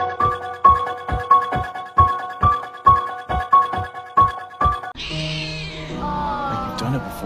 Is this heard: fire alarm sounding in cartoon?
no